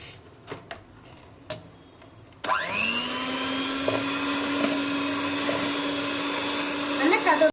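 An electric mixer starts up and beats a batter of butter with a slowly added egg and milk mixture. A few light clicks come first, then the motor spins up and settles into a steady, close whirring hum that carries to the end.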